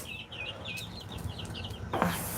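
Baby ducks and chickens make repeated high, thin peeping calls close by during farm chores, with a soft rustle and a brief louder knock near the end.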